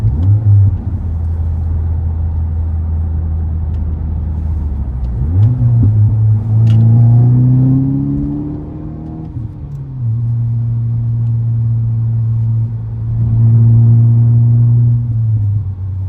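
A Mk8 car fitted with a development exhaust idles with a deep, loud droning rumble, then revs up and down in two sustained blips, the pitch rising and falling before settling back to a steady low burble.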